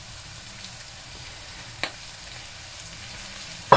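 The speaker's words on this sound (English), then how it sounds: "Just want to gently heat that garlic up so it's a really nice colour" Chopped garlic and peppers fry gently in a pan with a soft, steady sizzle, quiet and continuous, broken by a single faint clink near the middle.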